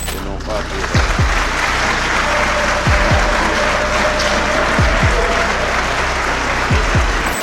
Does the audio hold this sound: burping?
no